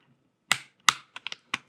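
Clicks and clacks of keycaps being handled on a hot-swappable mechanical keyboard: two sharper snaps followed by a quick run of lighter ticks, close and crisp in an otherwise quiet room.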